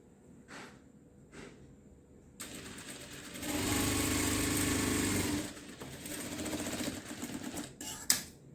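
A sewing machine stitches cutwork fabric, a few short isolated stitches first, then a sustained fast rattling run of several seconds that slows and stops with a final clunk.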